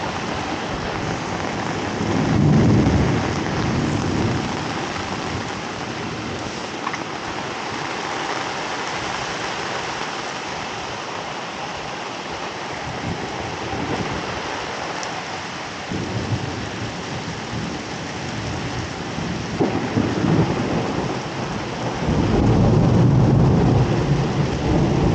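Heavy rain from Storm Daniel pours steadily throughout, with deep rumbles of thunder swelling near the start and again toward the end.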